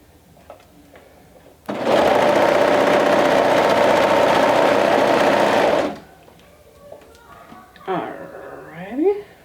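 A sewing machine stitches a side seam of a runabout romper at a 1/2 inch seam allowance, running loud and steady for about four seconds before stopping, with a voice speaking briefly afterward.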